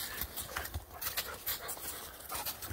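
Quick, breathy panting of a Sheepadoodle close by on a trail with snow and mud patches, steady rapid huffs with faint scuffling underneath, fairly quiet and with no talking.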